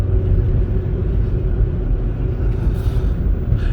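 A 2008 Ford Focus SE with a 5-speed manual pulls at about half throttle, its engine a steady, loud low rumble heard from inside the cabin, continuous throughout with no talk.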